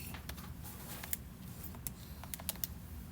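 Numbers being keyed into a calculator, a quiet run of light, irregular clicks and taps with several sharper presses standing out over a faint background hiss.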